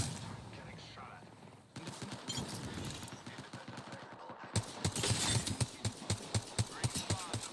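Apex Legends gunfire in a game fight: a dense burst of shots, then a loud, rapid rhythmic string of gunfire near the end, mixed with busy game sound and some voice.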